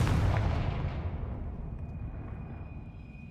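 Confringo blasting curse cast in Hogwarts Legacy on PC: a loud, rumbling explosive burst that fades into a long low roar, with a thin high tone lingering near the end.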